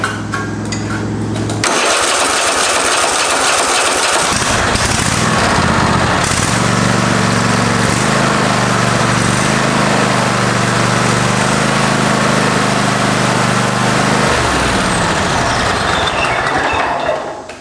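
A Craftsman riding lawn mower engine, jump-started from a jump pack because of a weak battery, cranks briefly, then catches and runs loud and close with a steady droning idle, its pitch dropping near the end.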